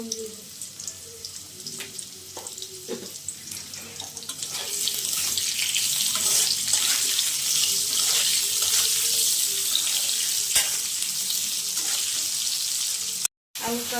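Potatoes frying in a pan of oil for a pabda fish curry, a steady loud hiss and sizzle that swells midway and holds, with faint clinks early on and no talk.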